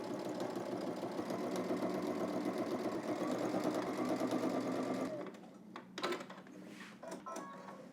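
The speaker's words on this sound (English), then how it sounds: "We're gonna stitch all the way around using 5/8 of an inch seam allowance." A sewing machine runs steadily for about five seconds, a close, even mechanical whir while it stitches a sleeve into an armhole, then stops, followed by a few quiet handling clicks.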